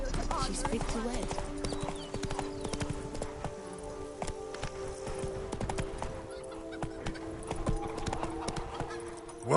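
Hooves of Geralt's horse Roach clip-clop rhythmically in The Witcher 3, steady and close, with a brief whinny and spoken dialogue over the galloping.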